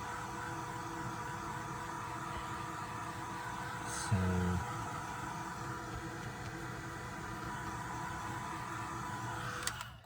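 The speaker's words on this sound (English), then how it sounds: "I'm just going to give this a quick blast with my heat gun," A heat gun blows with a steady, fairly quiet airy whir throughout at craft-table distance, with a brief louder click-like change partway through and a single spoken word near the start.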